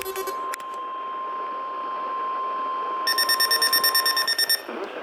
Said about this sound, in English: This has been a test of the NOAA All-Hazards Weather Radio Alarm System.